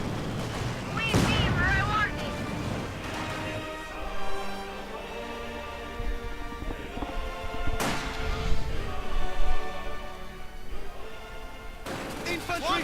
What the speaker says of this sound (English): Sturmgewehrs firing into the Guards infantry